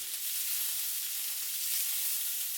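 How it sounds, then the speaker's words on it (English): Bacon fries in a skillet, giving a loud, even hiss of sizzling fat that runs unbroken throughout with no other sounds. "I have to say this bacon is kind of misbehaving in this skillet here."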